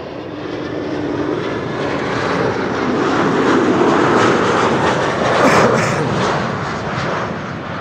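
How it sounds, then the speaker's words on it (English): A KLM airliner arriving from Stuttgart roars loudly and steadily, its jet engine noise swelling to a broad peak midway and easing slightly toward the end, with no talk. "we have KLM flight 1830 arriving from Stuttgart."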